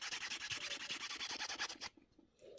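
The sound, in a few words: buffing and polishing a wire pendant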